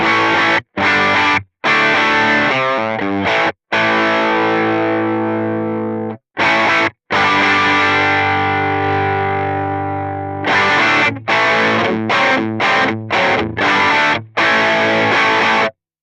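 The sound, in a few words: electric guitar through overdrive pedal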